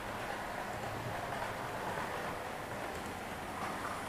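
A cheap model railway locomotive runs steadily, giving a continuous broadband rumble and whir at a constant level with no pauses, fairly close and without voices.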